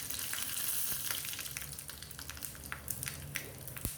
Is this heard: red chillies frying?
yes